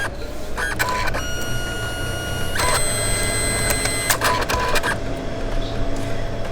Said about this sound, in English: So basically this is a ribbon printer.